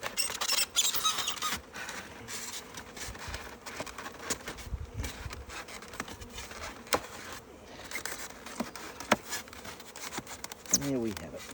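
Honeybees buzz around an open Langstroth hive in a close, continuous hum, with rustling and handling noises and a person speaking at times.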